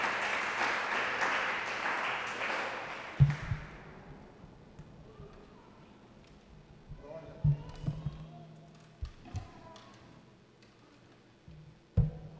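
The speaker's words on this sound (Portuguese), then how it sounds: "Aplauda Ele bem forte." A congregation applauds during a live church worship service. Dense clapping opens the clip and fades out after a few seconds, leaving a quiet room with a few scattered thumps and knocks.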